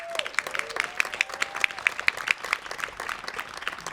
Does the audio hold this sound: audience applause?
yes